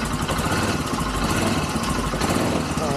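A quad ATV engine idles steadily right after a cold start in the snow with a little choke still on, a loud, close, continuous rough drone.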